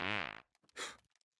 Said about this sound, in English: I want my farts to hurt!